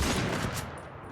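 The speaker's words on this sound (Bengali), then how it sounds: "হেডশট খেয়েছি জাজুল ভাই" Rapid automatic gunfire from an MP40 submachine gun in the Free Fire mobile battle game, a dense continuous burst of shots that stays loud for the whole moment.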